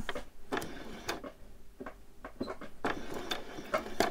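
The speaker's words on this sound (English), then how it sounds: "I'm just going to take my time and I'm just going to stitch it in" A sewing machine stitches t-shirt fabric in short, uneven bursts of rapid mechanical ticking, stopping and restarting several times at close range, with no talk.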